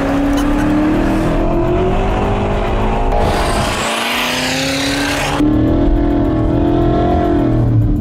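BMW M6 GT3 race car lapping a track, its engine roaring loud and continuous as it climbs through the revs, with sharp shifts and a brief lift before accelerating again, heard close from onboard.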